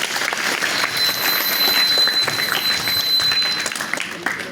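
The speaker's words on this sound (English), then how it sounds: "Let's give them a big round of applause." Audience applause at an Ambedkar Jayanti school celebration after a performance, a dense, steady crowd of clapping hands that stays loud and even for several seconds with no talk over it.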